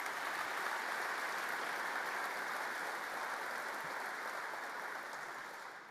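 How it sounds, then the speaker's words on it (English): Audience at a forum giving a sustained round of applause for the Joint Chiefs and combatant commanders, steady dense clapping that holds for several seconds and begins to fade at the end. "let's give the Joint Chiefs and the combatant commanders a round of applause"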